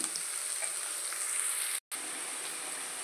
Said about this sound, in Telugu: ఉల్లిపాయలు ఫ్రై అయ్యేలాగా